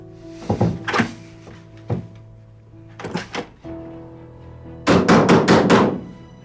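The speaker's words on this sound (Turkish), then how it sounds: "Niye açılmıyor bu kapı şimdi?" Banging on a locked door that won't open: a few heavy thuds early, then a rapid burst of five loud blows near the end, fairly close, with no talk over them.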